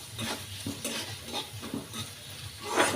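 Sliced onions being stirred in a frying pan, soft repeated scraping strokes of a utensil over a low background sizzle, close and moderately quiet.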